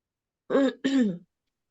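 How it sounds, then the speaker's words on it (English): A person clears their throat twice in quick succession, close and fairly loud, with silence before and after. "I got a cough."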